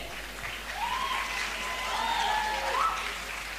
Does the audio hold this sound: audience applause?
yes